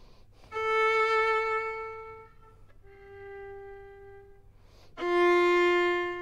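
During a string masterclass, a violin plays a slow bass line of three long sustained bowed notes, each held for about two seconds with short gaps between them, clear and close.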